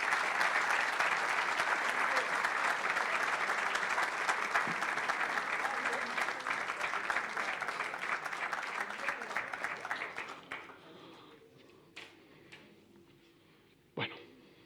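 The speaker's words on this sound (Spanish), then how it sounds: "les pido que por favor recibamos con un aplauso a los protagonistas de la charla de hoy" Audience at a talk welcoming the speakers with sustained applause, dense and steady for about ten seconds, then tapering off to a few scattered claps and thumps.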